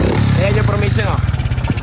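Motorcycle engine idling after carburetor tuning, a loud, close, steady throbbing putter that turns choppier and more uneven toward the end.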